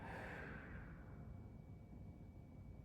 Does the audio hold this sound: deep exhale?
yes